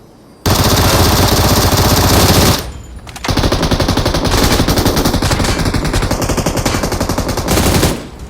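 A UMP submachine gun fires in PUBG Mobile, loud sustained bursts of rapid automatic gunfire, two long strings broken by a short pause, with no talk over them.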